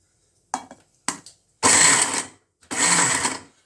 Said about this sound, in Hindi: तो चलिए इसको हम ग्राइंड करते हैं।